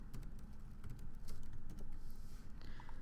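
Close keys clatter on a computer keyboard as a number is typed: a quick series of light, sharp clicks over a steady low hum, with no voice.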